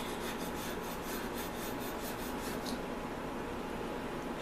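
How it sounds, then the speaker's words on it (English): Steel wool scrubbed back and forth across a tool blade to clear off dirt, a steady close rasping rub with quick repeated strokes, running alone without voices. "Take my steel wool and just go over the blade"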